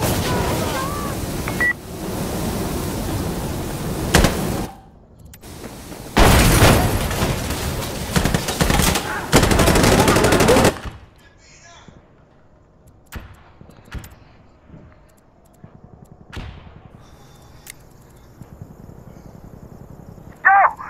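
Sustained bursts of automatic gunfire in the shooter game Insurgency, loud and dense for about ten seconds with a short break, then sparse distant shots and clicks under quiet talk.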